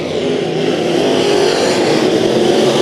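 Sport modified race cars circle Bakersfield Speedway at a green-flag restart, a dense, steady roar of several engines held close and loud throughout, with no talk over it.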